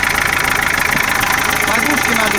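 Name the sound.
Ford Sierra 2.3 diesel engine running at idle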